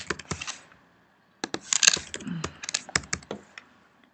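A username and password are typed on a computer keyboard: quick, close key clicks come in two bursts separated by a short silent pause, and the second burst is busier and louder.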